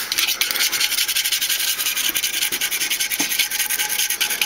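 A blade scrapes old gasket residue off the ceramic rim of a Big Green Egg grill, a continuous close, harsh rasping in quick repeated strokes with no talking.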